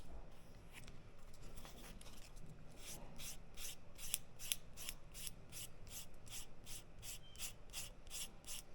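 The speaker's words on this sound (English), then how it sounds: "if you need to roll up the sandpaper to get into there, that works really well." 220-grit sandpaper rubs across leather in rhythmic one-direction strokes, a quiet, close rasping that settles into a steady back-and-forth pattern of about two strokes per second, with no talking.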